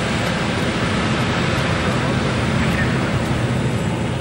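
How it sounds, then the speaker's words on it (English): A Concorde supersonic airliner taxis at Blagnac airport, giving a loud, steady, broadband jet roar that holds constant throughout. "Concorde Sierra Bravo, taxi."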